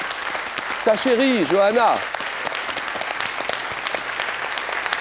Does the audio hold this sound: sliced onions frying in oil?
no